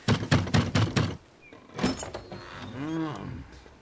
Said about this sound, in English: Knock again, will you, darling? Yes. Louder still.